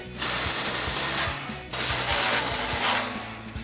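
A ratchet socket wrench with a 16mm socket tightening bolts on a heavy-duty front bumper of a Jeep Wrangler JL, rapid close clicking in two bursts separated by a brief pause.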